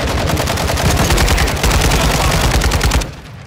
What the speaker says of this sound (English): Sorry, I was shooting through you.